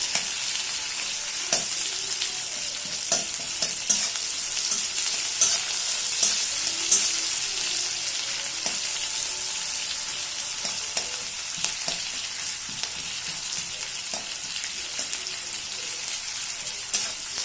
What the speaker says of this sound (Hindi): पियाज को भलसे लाल लाल कर भाजवा तार कंचा गंधटा पड़ेब